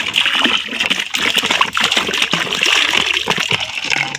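Cold water from the fridge is poured into a small home pool, giving a continuous close splash and gush of water.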